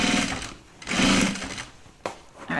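A sewing machine stitches a project bag in bursts, a steady mechanical whir that speeds up and pauses, with a couple of brief bumps of fabric handling between runs, close and clear with no talking.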